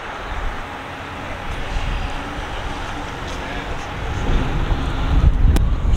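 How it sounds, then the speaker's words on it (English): Wind gusting across an outdoor classic Corvette car show, a broad rumbling rush on the microphone that swells toward the end, under faint background voices. "A little windy today here."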